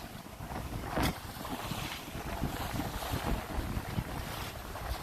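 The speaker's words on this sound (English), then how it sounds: "And there we are sailing." A sailboat under way at sea, with rushing wind buffeting the microphone, water swishing along the hull and waves washing past, heard as a continuous, fairly loud blustery wash with no talking.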